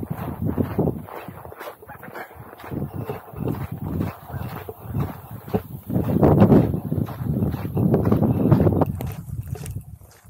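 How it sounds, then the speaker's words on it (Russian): Gusty wind in Zhanaev Park buffets the microphone in rumbling bursts, with water lapping faintly beneath; loud, uneven and close, no speech. "здесь ветер, там не было ветра"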